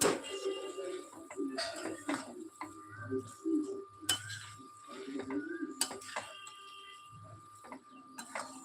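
A spoon scraping and knocking in a pot while bottle gourd and moong dal are stirred, irregular clanks and scrapes over a steady background hum, close and quiet.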